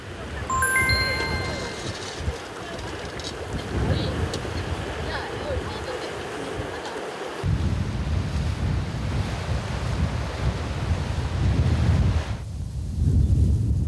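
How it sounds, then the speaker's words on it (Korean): Strong sea wind roars at Guryongpo on the coast, buffeting the microphone in loud gusts with surf washing beneath, a continuous rushing blast that surges and shifts in level throughout. "바람이 붑니다. 구룡포에서만 느낄 수 있는 그 바람."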